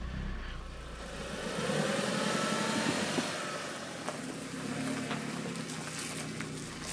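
Abandoned 2003 Audi S3 8L with flat tyres reversing, its engine humming and rising briefly as the car rolls back, with faint knocks and clicks along the way.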